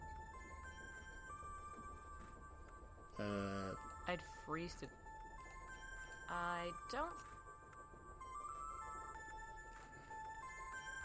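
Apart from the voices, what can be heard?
telephone ringing in a video game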